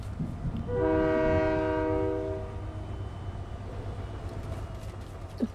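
A train passes in a Fortnite match, its horn blaring loudly for a couple of seconds before fading into a steady low rumble of cars rolling by.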